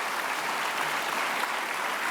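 Sustained applause from a television studio audience for a young memory-competition contestant, a dense, even wash of clapping at moderate volume with no distinct single claps.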